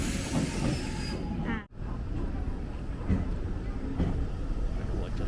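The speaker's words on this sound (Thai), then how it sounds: "นี่คือรถไฟของเรา" A Rapi:t express train pulls into a station platform, a dense rumble with a brief screech of wheels and a sharp passing whoosh of air, heard close with a voice briefly speaking over it.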